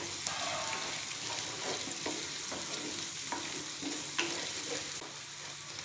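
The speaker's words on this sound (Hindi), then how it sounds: "तकरीबन हमने 2 से 3 मिनट तक हमने प्याज को पकाया हल्की दरमियानी आंच पे" Onions fry in a pan over medium heat with a continuous gentle sizzle. Scattered scraping stir strokes run through it, and one sharper knock sounds near the end.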